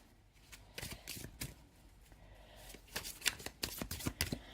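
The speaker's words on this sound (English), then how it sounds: "Give it a good shuffle." A deck of cards is shuffled up close, riffling in a few brisk bursts with soft handling sounds between them.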